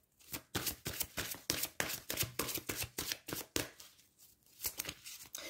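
Tarot cards being shuffled by hand during a reading, a steady run of soft riffling and slapping bursts at a regular rhythm, close and fairly quiet, ending in a brief pause and a last shuffle.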